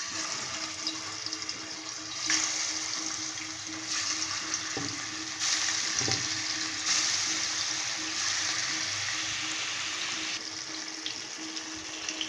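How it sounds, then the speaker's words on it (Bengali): Rohu fish pieces coated in salt, turmeric and chilli powder frying in hot oil in a kadai, a steady soft hiss and sizzle with occasional small pops, faint and continuous with no talking. "মাছটা হালকা লাল করে ভেজে নেব"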